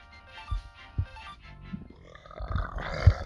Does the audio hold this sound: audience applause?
no